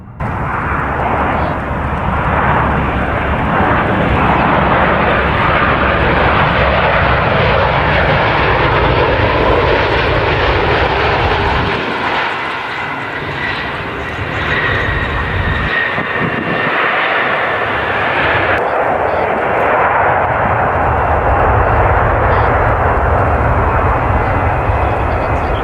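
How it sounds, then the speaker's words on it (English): A Boeing 737 makes an emergency landing without flaps at Perth, Australia, its engines roaring loud and continuous, the noise dipping briefly midway before swelling again, with no speech over it. "this Boeing 737 had to perform an emergency landing without flaps in Perth,"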